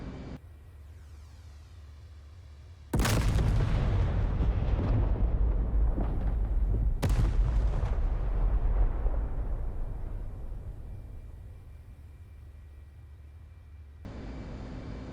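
A laser-guided bomb from an F/A-18 Hornet strikes a bunker in DCS, setting off one sudden heavy blast with a deep rumble. A second crack follows, then a long fading roar over steady aircraft engine hum.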